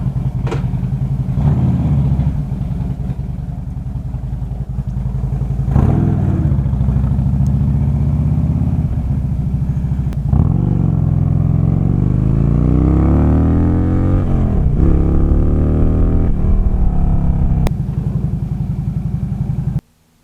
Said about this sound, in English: So I believe I got the issues with the bike fixed. So time to take it for a test ride.